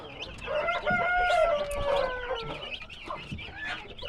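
Hens clucking in a former fox cage now used as a chicken coop, with a rooster's drawn-out crow rising in the middle over close, irregular clucks and bird chatter.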